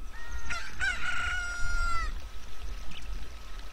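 A chick in Zelda: Ocarina of Time gives a single crowing call, a shrill, rising and wavering cry lasting under two seconds, over a quiet game background.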